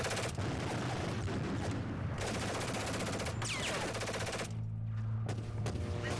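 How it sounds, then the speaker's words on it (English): Sustained machine-gun fire and rapid shots in a video game trailer rattle on loudly for several seconds, with bursts overlapping a constant wash of battlefield noise and a brief lull near the end. "Classic gun sound effects."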